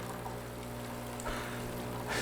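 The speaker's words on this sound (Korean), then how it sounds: "한번 보여드릴까요? 물 나오는 거 보세요." Water rushing from the group head of a Simonelli Musica espresso machine, a steady hissing stream with the flow surging louder near the end.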